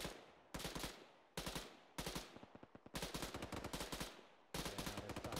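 Gunfire in Arma 3 rings out as several sharp, loud bursts of automatic fire, each a quick run of cracks with a short pause before the next, and no voices.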